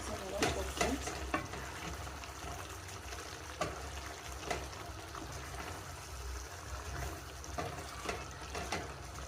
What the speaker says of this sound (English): Then you stir gently